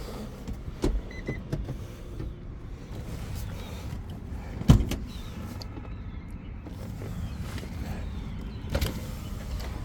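Low hum of a car power window motor running inside a 2019 Maruti Suzuki Brezza ZDi+ diesel automatic, with a sharp thump midway and faint rustling.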